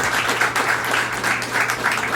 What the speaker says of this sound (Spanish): vamos a darle un aplauso a él y al gobernador Rafael Lacaba